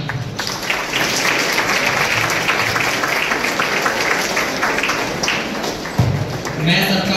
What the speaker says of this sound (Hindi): इनके लिए जोर जोर तालियां